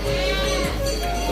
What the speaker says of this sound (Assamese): এটা ছাগলী বলি দি আছে আৰু তিনিটামান আকৌ আছে সেইফালে।